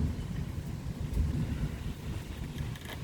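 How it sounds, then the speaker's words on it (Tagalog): Strong wind buffets the microphone outdoors at midday, a loud continuous low rumble with gusty swells and no voices. "Ninani ka kusog ang hangin."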